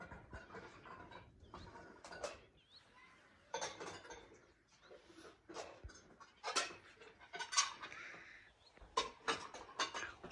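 Dishes and cutlery clatter and clink in irregular bursts nearby, faint and intermittent, with soft movement in between.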